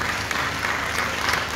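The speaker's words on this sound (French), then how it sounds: "Merci d'applaudir encore, Madame le ministre" An audience at a Miss Centrafrique preselection event applauds the minister of arts, culture and tourism, giving a brief, steady, fairly soft wash of clapping.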